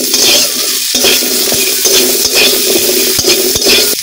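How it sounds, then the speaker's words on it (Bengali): Potato pieces fry in oil left from frying fish, a close, loud sizzle under frequent scraping and clinking of a spatula stirring in the pan, steady for the whole stretch with no talking. "মাছ ভাজার তেলে আমি আলুগুলো দিয়ে দেব"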